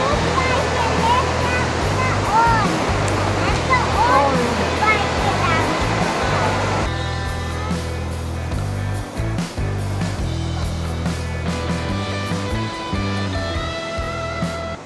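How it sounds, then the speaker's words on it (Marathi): A waterfall in Austria pours steadily as a broad, continuous rush of falling water, loud and close, with music or other tonal sounds layered over it throughout. "तिथे इतका सारा पाण्याचा आवाज होता की काहीच बोलू शकलो नाहीत"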